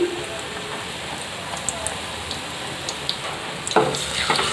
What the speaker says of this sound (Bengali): এভাবে কিন্তু আপনারা সব বিস্কুটগুলিকেই ডুবিয়ে তেলে ছেড়ে দেবেন।